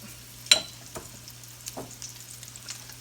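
Mackerel patties set into a skillet give off a faint, soft sizzle with a few brief sharp crackles and pops, close up over a low steady hum.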